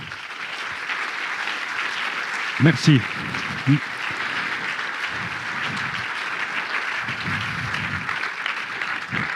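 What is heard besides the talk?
audience applause for youth jury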